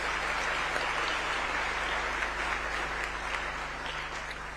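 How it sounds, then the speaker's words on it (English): Sustained applause from a large audience, dense and steady clapping filling the room without pause. "Another round of applause for His Excellency and all the speakers."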